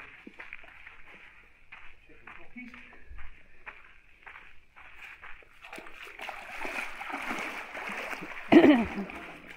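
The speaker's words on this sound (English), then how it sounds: "He's making as much splash as possible" Water splashing and sloshing as someone wades through a dark, crocodile-infested tunnel, growing louder and more vigorous toward the end, with voices talking intermittently.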